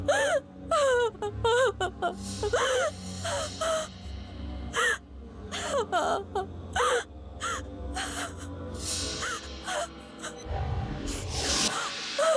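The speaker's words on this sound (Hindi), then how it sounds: "ये रोने की आवाज? कौन रो रहा है?" Eerie wailing cries in a Hindi horror TV serial, drawn-out sobbing moans rising and falling over a dark, layered background, with bursts of sharper cries and gasps toward the end.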